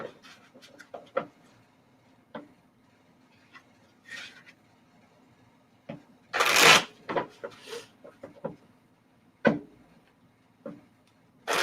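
Tarot cards are shuffled in short riffling bursts with quiet ticks and taps between them, one louder flurry in the middle, close and alone with no talking.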